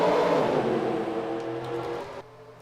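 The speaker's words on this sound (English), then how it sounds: "Drivers, start your engines." Race car engines in a NASCAR-style racing video game, a loud revving roar that fades and thins out over a couple of seconds before dropping off.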